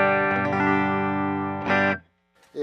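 A sustained, distorted Stratocaster-style electric guitar chord rings out loudly through an amp, swells once more, then cuts off abruptly before a faint pluck.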